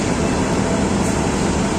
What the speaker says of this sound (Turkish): Şu an tren istasyonundayım.